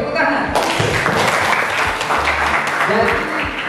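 An audience claps throughout at a school practice-teaching presentation, a dense patter of hands with a few thumps and voices mixed in underneath.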